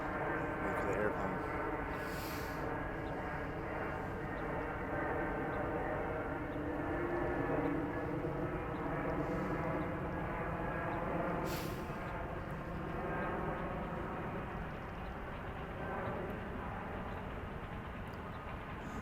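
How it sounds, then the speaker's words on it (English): A fixed-wing airplane drones overhead outdoors in winter, a long, steady engine rumble that hangs at an even level throughout, with a person's voice briefly in the foreground. "wait for the airplane"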